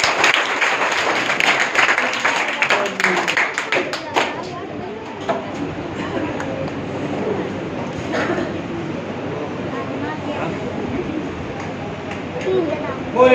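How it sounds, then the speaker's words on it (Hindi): Seminar audience clapping to welcome a speaker, a burst of applause in the first few seconds that fades into room noise with talking and scattered sounds afterward. "आपकी जोरदार तालियों के साथ स्वागत है।"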